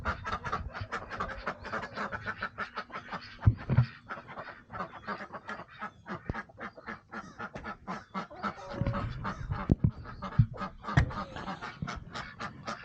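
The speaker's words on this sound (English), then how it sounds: "My birds are going crazy." Farm geese honk loudly and constantly, many birds calling over one another in a frantic, overlapping chorus close by, with occasional clatter underneath.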